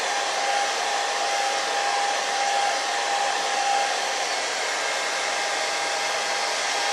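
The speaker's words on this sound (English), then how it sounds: "take that hair dryer" A hair dryer blows steadily at close range while being used to shape a puppet head, a loud continuous whoosh with a faint tonal whine, running unbroken without voices.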